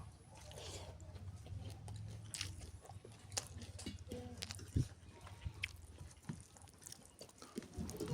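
Chewing and biting while eating a village-style curry of banana stem, snakehead fish, ash gourd and small shrimp, with soft wet mouth sounds and occasional clicks, close and quiet over a low steady hum.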